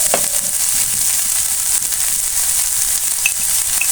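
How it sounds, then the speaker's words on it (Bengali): Chicken for chicken rolls fries in a pan with no water added, giving a steady, close hiss and crackle of sizzling oil with faint stirring scrapes and no voices. "চিকেনটা কিন্তু প্রায় হয়ে গেছে, আমি এর সঙ্গে কোনো পানি অ্যাড করিনি।"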